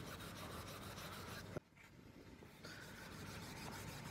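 Steady scratchy rubbing of used 320-grit sandpaper on a motorcycle exhaust cover, continuous with a brief pause in the middle, close and fairly loud.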